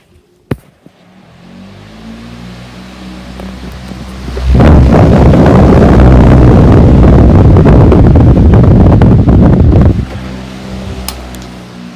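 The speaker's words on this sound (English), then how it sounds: "So here's high." A 20-inch Pro Breeze fan switched to high fills the room with a loud, steady rushing whoosh for about five seconds before cutting back, with quieter room tone on either side.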